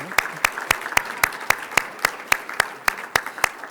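Steady rhythmic clapping from a town hall audience honoring county commissioners at a Cook County Health community meeting, regular sharp claps in unison, clear and close, with no talk over them.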